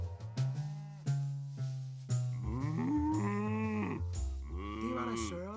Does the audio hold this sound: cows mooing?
yes